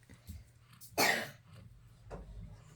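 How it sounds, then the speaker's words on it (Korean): A young child with a cold coughs, one sharp loud cough burst in the middle followed by a softer cough, with quiet breathing and small sounds around it indoors. "기침을 안 해야지, 그치?"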